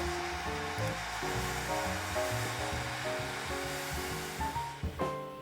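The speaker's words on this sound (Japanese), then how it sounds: "これぐらい溶けたらドライヤーで乾かしてしまいます。" A hair dryer blows steadily to dry a watercolour pencil drawing of an early-morning forest, a continuous airy rush beneath louder background music with a plucked, tuneful melody.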